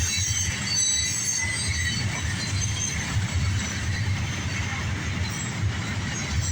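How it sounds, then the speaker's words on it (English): A southbound CSX mixed freight train rolls past, its wheels squealing in high thin tones above a steady low rumble of railcars, loud and close without letup. "Turned out to be a pretty good freight train here on Real Phantom Vibes."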